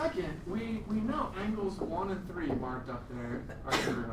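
A single sneeze bursts out near the end of a geometry lesson in a classroom, loud and sudden, breaking into a teacher's steady lecturing.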